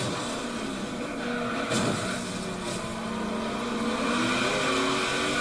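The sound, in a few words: car engine revving in second gear, Forza Horizon 3 video game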